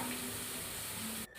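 Steady frying sizzle of sliced okra in a pan with faint stirring, briefly cutting out near the end.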